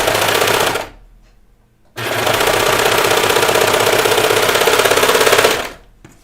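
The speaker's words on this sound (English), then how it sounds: "You can see my serger" Serger sewing machine stitching in two bursts, a loud rapid mechanical chatter that stops for about a second, then resumes steadily for several seconds before cutting off, heard close and alone.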